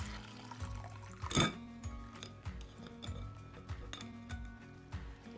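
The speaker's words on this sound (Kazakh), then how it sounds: "Видеодағыдай көк суы бөлек шыққан соң ірімшігімізді сүзіп аламыз." Whey drains as homemade curd cheese is strained in a kitchen, with a running liquid trickle, a sharp clink of pot or glass near the start, and scattered light knocks throughout, with no speech.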